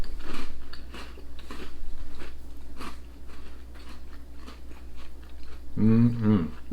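A McVitie's Victoria dark chocolate biscuit is bitten and chewed close to the microphone, giving soft repeated crunches over a low steady hum, with a brief voice near the end.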